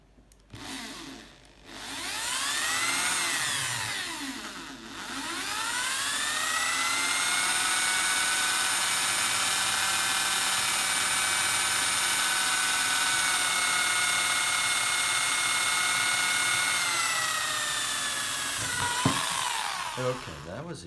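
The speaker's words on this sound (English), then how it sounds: "drilling holes in concrete" A power drill whines steadily as it bores holes into concrete, a loud sustained high-pitched drone after a brief start-stop, with faint talk near the end.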